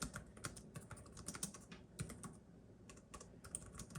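Rapid typing on the low-profile chiclet keyboard of a Lenovo ThinkPad Z13 OLED laptop, a steady stream of light, high-pitched clicks in bursts, close and fairly quiet with no talking.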